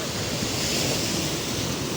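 A steady, loud roar of surf washing in on the shore at Kunkeshwar beach on the south Konkan coast of Maharashtra, with broad hissing water noise and a windy rumble throughout, no voices.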